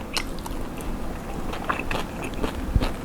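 Crispy skin of a Thai roast suckling pig crunched and chewed up close, a string of brittle crackles and bites over a steady bed of noisy room background.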